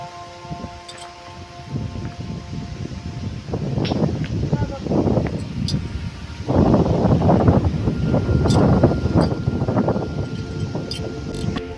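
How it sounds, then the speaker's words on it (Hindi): Strong wind gusts across the Morni Hills, a steady broadband rush rising in two louder surges, with faint talk mixed under it. "बहुत तेज हवा चल रही है"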